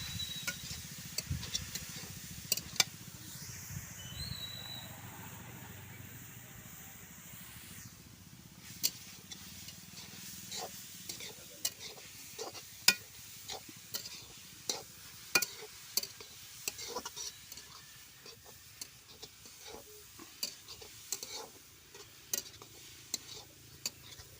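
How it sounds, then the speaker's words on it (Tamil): Carrots being sautéed in ghee in a pan for carrot halwa: intermittent stirring scrapes and clicks with a low, steady sizzle underneath, close and moderately quiet, no talking. "இப்போ வந்து நம்ம நல்லா வதக்கி விட்டுடலாம்"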